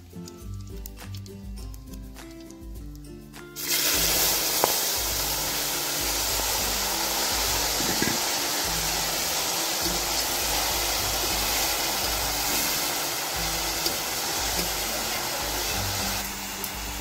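Jujubes drop into hot oil already spiced with five-spice and dried red chillies, setting off a loud, steady frying hiss that rushes in suddenly and holds unbroken for many seconds, close and alone.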